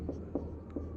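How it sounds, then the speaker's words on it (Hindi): Pen writing a line on paper during a maths lesson, three quick soft scratching strokes, close and quiet over a low room hum. "फिर यहाँ इसके बाद लाइन लिखते हैं"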